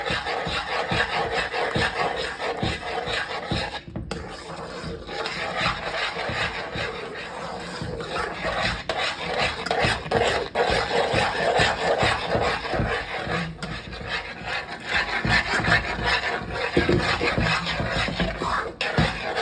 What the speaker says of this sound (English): Mix it till it get thick.